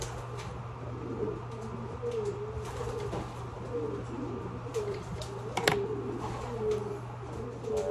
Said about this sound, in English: Wow, this is a nice bird.